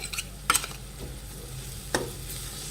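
Crushed garlic and ginger drop into browned red onions frying for pav bhaji, with a soft background sizzle broken by a few sharp scraping and clattering stirs.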